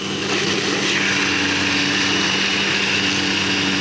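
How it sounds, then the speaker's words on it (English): A power drill whirs continuously at high speed, steady and loud, running close by with no pauses, as it cleans a motorcycle axle. "We need to clean up the axle, so I uh thought up something with a drill"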